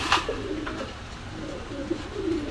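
At a shop selling Pakistani high-flyer pigeons, several birds coo nearby in repeated low, rolling calls, opening with a sharp knock and carrying on steadily over a soft background murmur.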